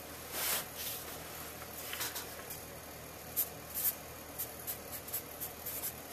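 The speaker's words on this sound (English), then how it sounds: "I'm using a marker, Sharpie" A Sharpie marker draws on paper, making soft, quiet squeaky strokes and rubs that come in short bursts, close by and alone.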